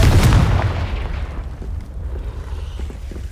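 A Confringo fire spell bursts in Hogwarts Legacy: one loud, deep blast at the start, then a rumbling decay that stays under a low background drone.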